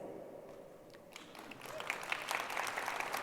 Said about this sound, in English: Yes, applaud that.